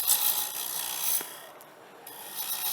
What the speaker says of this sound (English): using the bevel, rubbing against the wood, I'm going to start cutting there